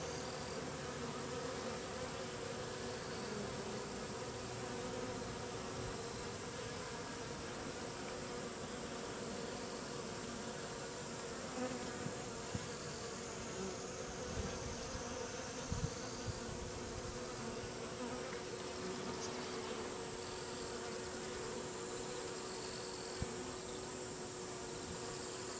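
A swarm of Japanese honeybees drones in a steady, dense buzz that holds at an even level for the whole stretch, with no voices.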